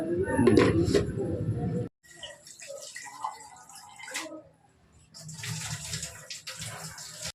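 Tamarind rinsed in water in a home kitchen, with close sloshing and splashing of water in a bowl that stops abruptly and then resumes more softly, while someone talks over it.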